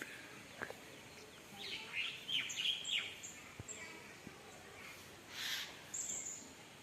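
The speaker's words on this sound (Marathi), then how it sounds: "पक्ष्यांचा आवाज पण येत असेल बघा" Birds call around a Konkan village on a morning, with faint scattered chirps and tweets at a distance over quiet outdoor background hush.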